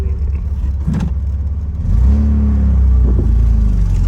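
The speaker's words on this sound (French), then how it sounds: "C'est presque joli ce petit bruit là à l'avant de. Oui, la fuite d'échappement." A Lancia Beta Spider 2000 on the road with an exhaust leak at the front, a loud close engine drone and rumble that swells as it revs up partway through, no voices.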